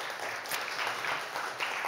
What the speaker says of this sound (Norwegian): En applaus til Petter Røkke